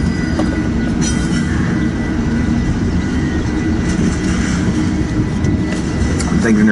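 A heavy freight train hauled by three locomotives rumbles steadily past at close range, a dense continuous roar of engines and rolling wagons with faint wheel squeal, loud throughout.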